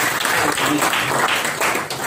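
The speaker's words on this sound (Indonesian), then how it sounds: "Beri tepuk tangan dulu bagi kita." Congregation at a church service clapping together in a brief, loud, steady burst of applause with some voices mixed in.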